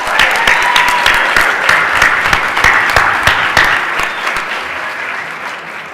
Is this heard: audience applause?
yes